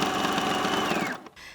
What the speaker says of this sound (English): take this to our sewing machine and sew those channels down either side